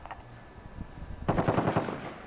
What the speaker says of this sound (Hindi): अरे चल बड़ी दूर से गोली चला दिया